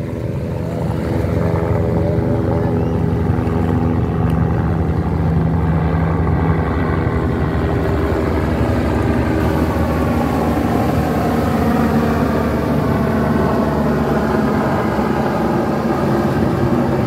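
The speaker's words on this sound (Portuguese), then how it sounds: "Olha o helicóptero do Corpo de Bombeiros." A fire department helicopter drones steadily overhead near a fishing pier in Mongaguá, Brazil, a continuous loud engine and rotor hum with a slowly shifting pitch and no talking.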